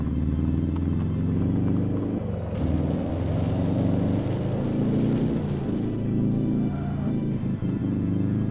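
Powerful car engine in the racing game Fast Dust, a steady low rumbling drone with shifting tone as the car overtakes, sustained and fairly loud with no voices.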